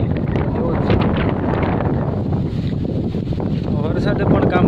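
Gusty wind sweeps through a village during a rainy spell, buffeting the microphone in loud, uneven surges while a person talks over it.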